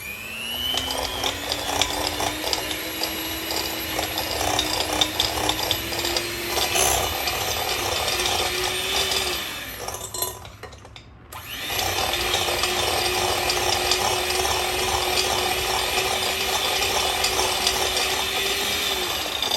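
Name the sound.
hand mixer on medium beating dough and eggs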